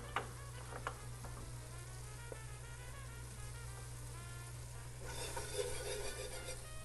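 Onions, celery and bell pepper sizzle steadily in a gumbo pot over low heat, with a constant soft crackle, occasional stirring scrapes and a louder hiss near the end.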